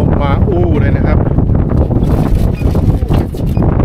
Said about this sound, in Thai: ลมมาอู้เลยนะครับ